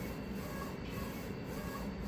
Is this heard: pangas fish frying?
no